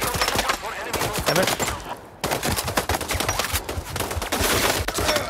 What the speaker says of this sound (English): Shots nearby.